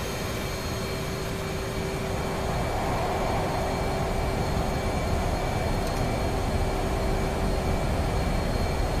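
F/A-18 Hornet jet roaring steadily during takeoff in a flight video game, fully fuelled and loaded with ordnance, a loud, unbroken engine drone with a faint whine running throughout.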